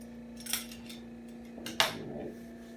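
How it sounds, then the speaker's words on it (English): A vegetable peeler drawn back and forth over carrots makes a few short, crisp scraping strokes, close and fairly quiet over a faint steady hum. "Just go back and forth. You can save your time peeling carrots."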